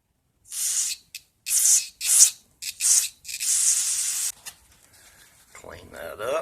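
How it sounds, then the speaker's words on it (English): Spray cleaner hisses in short bursts onto the bottom bearing of a 1966 Rheem/Califone 1450 record player, six or seven close, sharp blasts, followed by quiet handling and a brief voice at the end. "Now I'm going to spray out this bottom bearing here."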